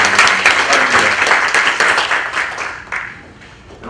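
A church congregation applauding together, a loud sustained round of many hands clapping that thins and fades toward the end.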